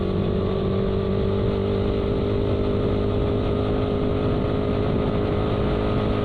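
A Raider 150 motorcycle with a carburetor engine ridden along a road through a landslide-prone area in Cebu, its steady engine drone loud and continuous throughout with no talk.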